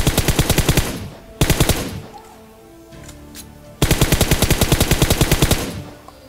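Rapid automatic gunfire from PUBG Mobile during close-range battle: loud, evenly spaced bursts of shots, a short burst, a quieter gap with a faint background rumble, then a longer sustained volley.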